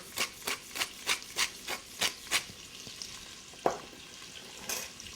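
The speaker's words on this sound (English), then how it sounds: "Keep it stirring." Chestnuts seasoned with salt and black pepper fry over high heat in a pan for chestnut soup while being stirred, giving a quick run of rhythmic scraping sizzles, then a single sharper scrape and a fainter sizzle near the end.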